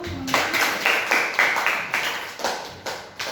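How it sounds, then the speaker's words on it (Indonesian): A classroom audience applauds a student group, several people clapping together in a brief, moderately close round of scattered claps that fades slightly toward the end. "Beri aplaus dulu"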